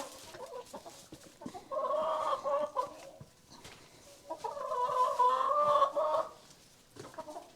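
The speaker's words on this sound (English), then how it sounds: "Come on, chickens." A flock of chickens clucking in a barn, two long bursts of busy overlapping clucks and murmurs close by with quieter pauses between them, with no talking.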